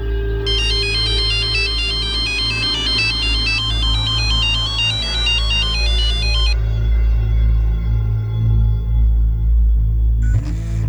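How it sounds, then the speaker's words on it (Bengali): A mobile phone ringtone plays loud and steady as a repeating electronic melody for several seconds, then stops, leaving a low hum. "এই মনীষা আমার ফোনটা ধরছে না কেন?"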